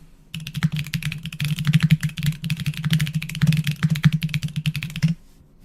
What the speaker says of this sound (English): That felt like really strong typing there.